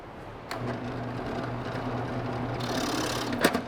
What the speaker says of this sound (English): just gonna drill a hole here